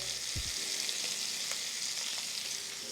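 Shrimp sizzle in a hot skillet, a bright constant hiss close up, broken early by a low thump of the pan and a couple of faint clicks, with no one speaking.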